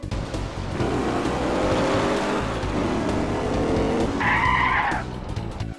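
A Mustang engine in GTA roars steadily, ending with a short tire squeal.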